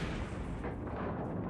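A heavy gun fires in a video game, a deep, booming blast whose low rumble fills the clip and slowly fades, loud and close with no talk.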